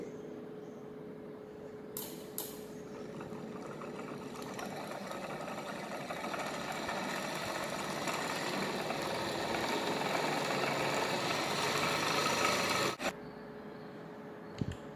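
A brushless DC motor generator spins with a faint, steady whirring whine and a thin constant tone, running on evenly before a sharp click near the end.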